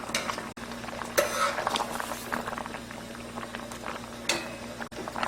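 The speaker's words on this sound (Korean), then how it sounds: "육수가 끓고 있죠." Anchovy broth boiling in a pot, a steady bubbling hiss with popping patter throughout, close and fairly loud, with a brief pause near the start and the end.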